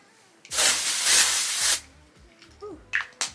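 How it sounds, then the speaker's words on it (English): A steady aerosol spray of Not Your Mother's Plump for Joy dry shampoo onto hair hisses for just over a second, close by, followed by a few small rustles and short clicks. "Not Your Mother's Plump for Joy bodybuilding dry shampoo to spray on my hair"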